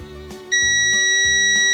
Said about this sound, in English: If it beeps, the fuse is fine.